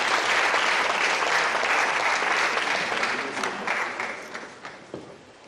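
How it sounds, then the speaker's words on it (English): Steady audience applause fills a seminar hall at the University of Lagos, holding full and even for several seconds before thinning and tapering off toward the end. "A round of applause for her"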